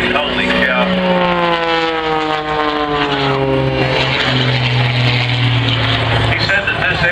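An aerobatic propeller airplane at an air show dives toward the ground, its engine drone loud and continuous with a falling Doppler pitch, while an announcer talks over it.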